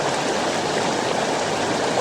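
A river running beside a large fire pit on a hike in the North Cascades makes a steady, close, unbroken rush of flowing water with no talk over it.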